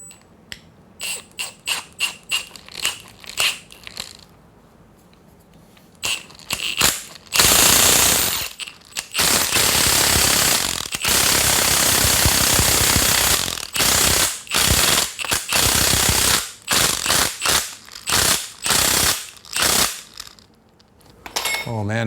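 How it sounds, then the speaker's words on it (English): An impact wrench tightens a 19 mm fitting on a pressure washer hose, firing in quick rattling bursts, then hammering in a long, loud, continuous run at close range with brief pauses. "we're gonna cinch this down nice with my impact wrench, and this is a 19 millimeter"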